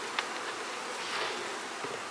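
Honey bees buzzing around a double screen board on a hive holding queen cells, a soft continuous drone at low level with no talking.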